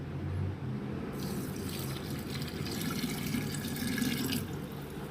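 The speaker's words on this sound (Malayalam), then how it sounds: "നമുക്കിനി ഇതിലേക്ക് നമ്മുടെ തിളപ്പിച്ചാറിയ വെള്ളം, ഒരു കുപ്പി വെള്ളമാണ് ഞാനിപ്പം ചേർത്ത് കൊടുക്കുന്നത്." Cooled boiled water from a bottle pours steadily into a strawberry wine mixture, a continuous close splashing gush that grows brighter after the first second and runs unbroken throughout.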